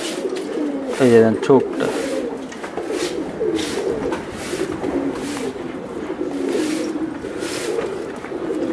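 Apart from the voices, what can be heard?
pigeon cooing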